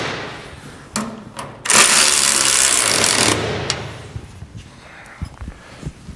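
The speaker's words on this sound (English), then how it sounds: "Start off with the 13 and tighten all the way around." Ratchet with a 13mm socket tightening bolts on an Erde 143 trailer: a few sharp clicks and knocks, then a loud sustained rasping burst lasting over a second, followed by scattered fainter clicks nearby.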